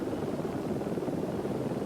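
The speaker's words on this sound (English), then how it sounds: "The Eurosport helicopter following him, coming over through the last stages" The Eurosport television helicopter flies over a desert rally raid stage, a brief, steady rotor drone of moderate loudness heard alone with no voices.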